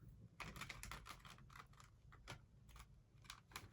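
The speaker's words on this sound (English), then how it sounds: "I'm shuffling." Tarot cards being shuffled off camera, a run of quick papery riffles and soft slaps in irregular bursts, close and fairly quiet.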